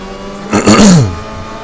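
A loud Honda Super GT500 race car in Gran Turismo 6 screams past in one brief burst, its engine note rising and then dropping away as it goes by.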